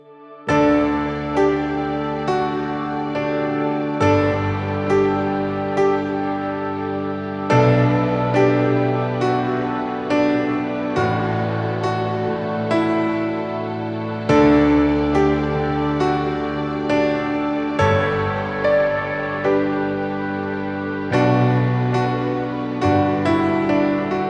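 Keyboard chorus patch layering piano, strings and a soft B3 organ underneath: sustained chords held and changed every few seconds, with piano attacks over a lush pad, played alone without talk.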